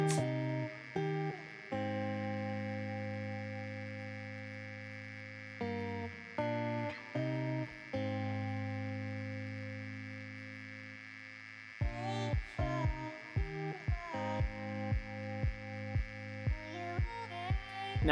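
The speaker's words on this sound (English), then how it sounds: "press that Cricut button on your Cricut Explore Air machine" A Cricut Explore Air cutting machine runs alone, its motors giving steady pitched whines that stop and restart in short bursts, then settle into a quick, regular pulsing series of tones toward the end.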